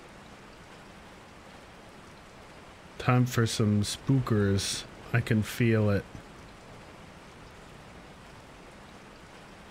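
Steady in-game rainfall at night in Resident Evil 4 hisses throughout, with a person speaking briefly over it in the middle.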